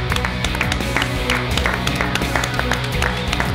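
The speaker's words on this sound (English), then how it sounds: "Clap." An esports arena audience at a Counter-Strike match claps to welcome a player onto the panel, a dense and steady wash of applause from a large crowd.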